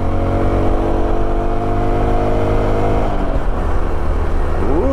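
A Honda Trail 125 motorcycle held at full throttle in second gear on a steep, dark road, its engine droning loud and steady close to the rider, the pitch shifting slightly near the end.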